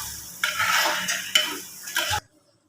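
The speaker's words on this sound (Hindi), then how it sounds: "यहाँ देखिए मैंने अपना चिकन पकौड़ा फ्राई कर रही हूँ" Chicken pakoras frying in a pan, with a steady crackling sizzle and a few clinks and scrapes of a utensil against the pan, close and alone, ending abruptly in silence.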